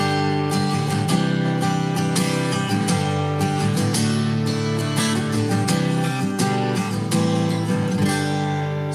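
Chords strummed on a Taylor Koa acoustic guitar with a dry, balanced, slightly chimey tone, played continuously and up close with steady rhythmic strums, no voices over it.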